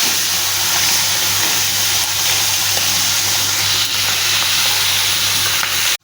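Shrimp coated in turmeric and salt sizzle and spit steadily in hot oil in a pan, a loud continuous frying hiss that ends abruptly.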